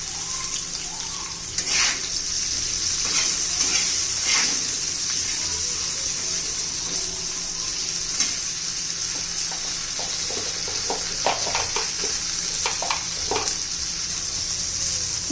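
Green chillies frying with salt in a pan, a continuous bright hiss and sizzle with intermittent scraping and clinking as they are stirred, close and steady with no talk.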